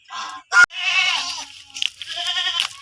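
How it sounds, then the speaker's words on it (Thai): A farm goat bleats several times in quick succession at close range, with a sharp knock between the calls. "อันนี้แพะนะคะ"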